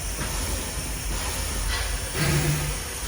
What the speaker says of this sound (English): here comes... Is this another train? Yes, another engine.